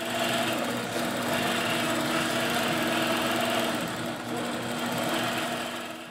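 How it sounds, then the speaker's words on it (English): An APQS longarm quilting machine stitches out a row, a steady, loud mechanical hum and rapid needle whir running continuously without pause and with no talk. "click on Sew and stitch out the next row"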